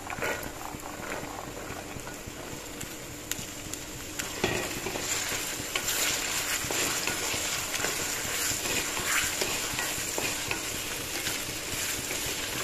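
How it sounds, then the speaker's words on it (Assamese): Steady oily sizzling of chickpeas frying with onions, with intermittent scraping and clatter of a utensil stirring in the pan, close and continuous. "বুটকেইটাও এনেদৰে সেই তেলত ভাজি লওঁ"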